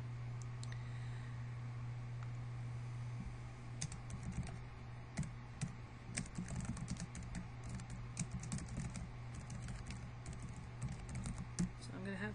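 Someone types code on a computer keyboard: quiet, close keystrokes in irregular bursts over a faint steady hum, with sparse typing at first that grows busier.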